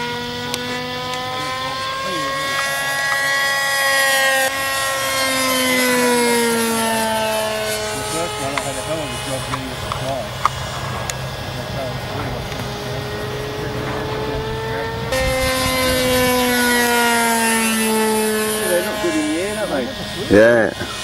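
An RC Phoenix P-51 Mustang warbird with an ASP 52 glow engine buzzes past, its whining note rising and falling in pitch as it passes, loud and near at times, with people talking over it.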